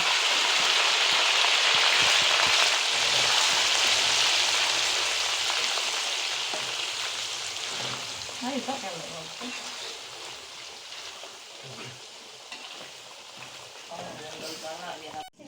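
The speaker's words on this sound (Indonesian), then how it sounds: "kemudian kita panaskan dulu minyak. Lalu kita masukkan ikan yang sudah kita tumis tadi." Tilapia frying in hot oil produces a loud, dense crackling sizzle that gradually fades and thins out over the span, with a person talking in the later part.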